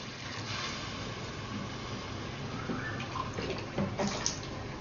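Two glasses of water poured into a pot of aloo gosht, a continuous close splashing pour with some dripping toward the end, heard without speech.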